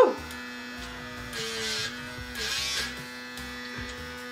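A suction lip plumping machine runs with a steady electric buzz and hum, its motor pulsing in rhythmic surges close up, alone without talk.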